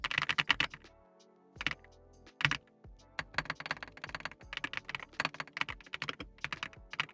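Someone types on a mechanical computer keyboard in quick, crisp bursts of rapid keystrokes, close and clear, with short pauses between runs and no talking.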